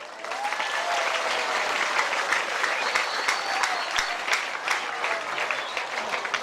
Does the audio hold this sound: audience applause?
yes